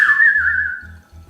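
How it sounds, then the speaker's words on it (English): One person whistles a single clear, sustained note that slides gently downward, loud and close, with soft low thumps underneath. "I can't whistle anymore."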